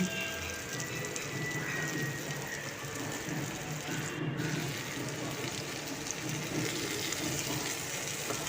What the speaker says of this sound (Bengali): আলুটা ঝিঙেটা আর কুমড়োর বড়াগুলো সব একসাথে ভেজে নিচ্ছি